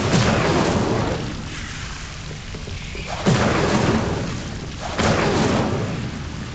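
An Incendio fire spell is cast in the Hogwarts Legacy video game, with a loud rumbling, whooshing burst that swells twice in heavy booming waves over a dense, noisy background.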